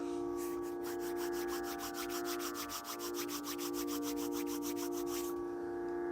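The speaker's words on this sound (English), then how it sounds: "Rub your palms together to create a warmth." Palms rub briskly together to build warmth, a steady soft swishing friction in quick regular strokes, faint and close over a low steady hum.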